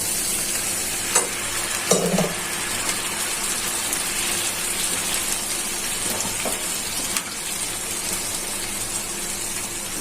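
Onions and spices fry for a pangas fish curry as a little broth is added, giving a bright sustained sizzle with spoon scrapes and a couple of knocks against the pan near the start.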